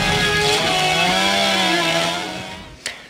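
Chainsaw ripping through a thick stack of paper tax code pages, a loud, close engine whine that holds steady and then winds down, ending with a sharp thump.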